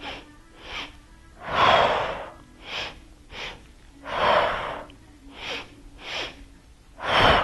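Rhythmic breaths in and out during a Pilates mat workout, close and audible, alternating longer deep inhales with shorter exhales in a steady pattern with no talking.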